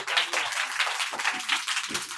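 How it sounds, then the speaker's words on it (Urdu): Children clapping for Santa at a Christmas gathering in inner Lahore, with steady dense applause from a crowd, lively and close throughout, with no voices standing out. "اور سینٹا کے لیے تالیاں بھی جو تالیاں"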